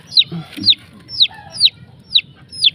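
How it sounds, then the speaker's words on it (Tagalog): A lost chick peeping loudly and close, five or six sharp high cheeps at a steady rhythm, with faint background noise between them. "Ba't may siyap ng siyap?"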